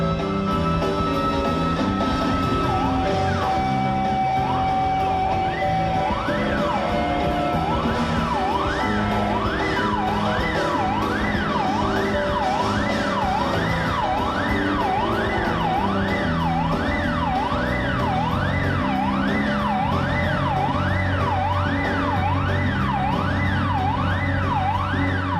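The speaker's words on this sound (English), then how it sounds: "This kind of sound, this woo, woo, woo. It's like police siren sort of thing" A rising-and-falling siren-like woo tone repeats steadily inside dense, loud music, starting as a held note before settling into a regular wail.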